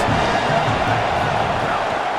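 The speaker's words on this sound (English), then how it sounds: "Big 3rd down as the crowd gets behind this defense" A stadium crowd in an EA Sports college football game, Nebraska against Clemson, roaring steadily and loudly for the defense on a big third down, a dense sustained wall of cheering.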